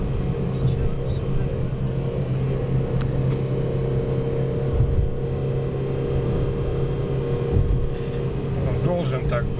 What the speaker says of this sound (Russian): Еще звуки появляются, когда обороты увеличиваются. Вот сейчас, вот, допустим, на 4000 обороты начинается звук такой вот.